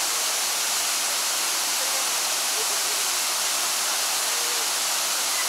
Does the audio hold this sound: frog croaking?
no